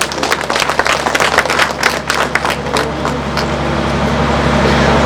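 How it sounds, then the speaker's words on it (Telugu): Audience applause at a village gathering for an agricultural science company, dense clapping throughout over a steady background hum, slightly swelling toward the end. "మీ అందరికీ ఒక్కసారి గట్టిగా చప్పట్లు కొడతాం"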